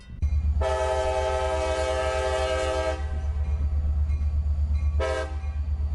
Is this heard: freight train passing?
yes